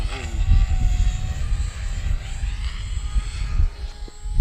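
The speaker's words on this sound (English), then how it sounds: "can you hear that? That's a helicopter doing its 3D." A helicopter flies overhead doing aerial maneuvers outdoors, a continuous loud engine and rotor roar with shifting pitch filling the whole stretch, no speech over it.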